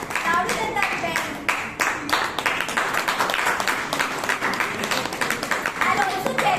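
An audience at a Bangalore Toastmasters club meeting claps loudly and continuously, a dense close patter of hands with a few voices underneath.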